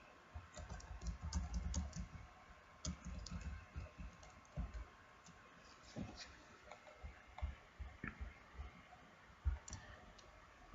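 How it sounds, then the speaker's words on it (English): Rapid computer keyboard typing in bursts of soft clicks, close and fairly quiet, with irregular rhythm and a faint low background murmur, entering article content in a website editor. "you type the information that you want to show"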